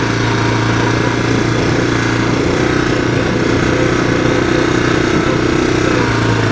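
A 1985 Honda ATC 250SX three-wheeler's engine runs steadily, a loud buzzing drone heard up close with no break in the sound.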